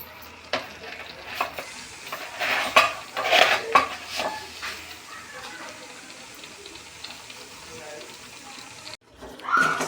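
A spoon scrapes and clatters around a pot of carrot halwa in a few brisk bursts over a steady sizzle as sugar is added, then briefly pauses before stirring resumes.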